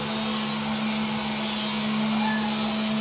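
A power sander smooths a puttied surface during a home renovation, running steadily with a constant whirring motor drone and a gritty abrasive hiss, no pauses.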